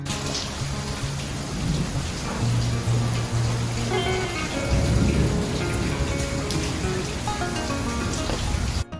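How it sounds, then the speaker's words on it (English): Heavy rain in rural South Africa, a dense, steady roar of falling water that fills the whole stretch, loud and close, with deeper rumbling beneath and no voices. "It's raining crazy in South Africa these days"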